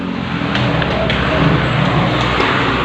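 Dense road traffic heard while walking along a street, a steady wash of car engines and tire noise with faint passing vehicles, fairly loud and continuous.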